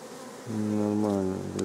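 Bees buzz around a beehive at a rural village homestead in June, a close, steady droning hum that swells in as one passes near and holds loud for over a second.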